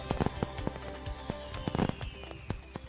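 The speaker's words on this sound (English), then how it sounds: "Legendary fireworks. Feel the firepower safely." Fireworks go off in a rapid scatter of sharp cracks and pops, loud and close, with some whistling streaks and crackle between the blasts.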